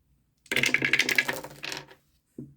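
Dice clatter and tumble across a tabletop during a 1960 tabletop baseball game, a rapid close rattling burst of hard clicks that trails off, followed by one last short knock.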